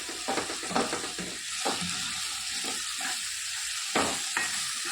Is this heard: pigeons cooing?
no